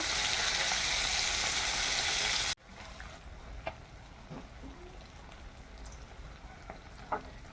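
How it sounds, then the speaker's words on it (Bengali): Fish frying in hot oil in a village kitchen: a loud, steady sizzle that cuts off abruptly, leaving a quieter crackle with occasional spits and pops. "মাছটা ভেজে নেই, মাছের তেল ঝাল বানাবো"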